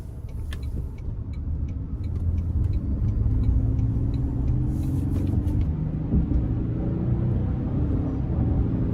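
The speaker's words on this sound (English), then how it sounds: "I'm not gonna thrash it, but I'm gonna give it some pull here as I get on the interstate" A 2024 Toyota Tundra Limited Nightshade with the i-Force MAX engine, in sport mode, pulls hard onto an interstate. A steady, loud low rumble of engine and road noise swells and holds throughout, with faint ticking above it.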